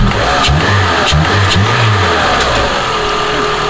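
A PT Cruiser race car's engine revs up loudly several times in quick bursts over a steady idle, close to the listener, with no talking.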